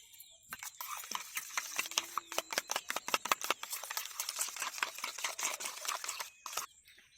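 A spoon rapidly beating yogurt in a bowl, a fast run of sharp, close clicking taps that speeds into a dense patter, with no speech.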